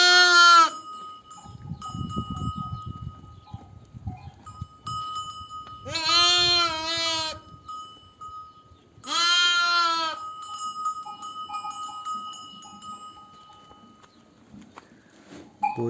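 Loud, close bleats from sheep or lambs, three long wavering calls separated by quieter shuffling and a faint tinkling bell.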